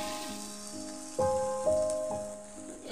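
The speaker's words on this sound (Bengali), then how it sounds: "এবারে মিডিয়াম টু হাই ফ্লেমে সবজিগুলোর সাথে চালটাকে কয়েক সেকেন্ড ভেজে নিলাম।" Barnyard millet rice fries with vegetables over a medium-high flame, giving a steady, close sizzle beneath sustained musical tones.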